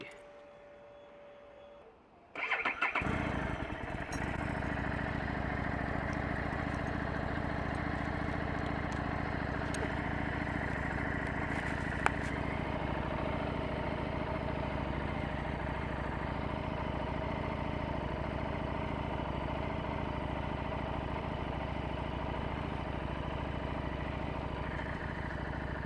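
A Street 750 motorcycle engine cranks and fires up after a quiet moment, then settles into a steady, close, even idle that runs unbroken for over twenty seconds.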